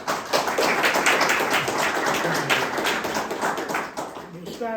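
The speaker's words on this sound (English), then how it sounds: "So I ask you to give Ed a round of applause for preparing this for our afternoon" An audience claps in a continuous wave of applause at a community presentation about West Deering, dense and fairly close for the whole stretch.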